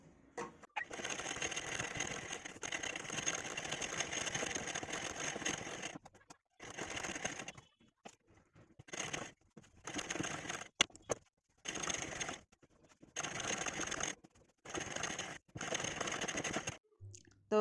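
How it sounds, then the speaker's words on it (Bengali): Sewing machine stitching dori sleeves, quiet rapid mechanical whirring in repeated bursts of a few seconds separated by short pauses while the fabric is repositioned. "চলুন এটাও সেলাই করে নিই"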